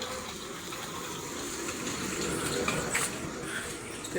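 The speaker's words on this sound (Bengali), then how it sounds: "এই যে গুড়ি গুড়ি বৃষ্টি পড়তেছে দেখতে পারতেছে যে গুড়ি গুড়ি বৃষ্টি ফুটা ফুটা পানি" Steady light drizzling rain on a street falls in a continuous soft hiss and patter throughout, close and even, with no voices.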